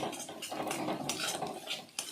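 Egg scrambled and fried in oil in a wok, broken up into crumbly bits: a spatula clatters and scrapes steadily against the metal pan, close and continuous for the whole stretch.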